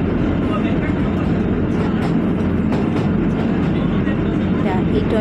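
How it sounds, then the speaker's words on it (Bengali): The Deluxe Shivalik toy train rolls along as it enters a tunnel, producing a dense, steady rumble and roar of wheels and carriages heard from onboard, loud and continuous throughout. "আবার একটা টানেলের মধ্যে আমাদের ট্রেন ঢুকে গেল"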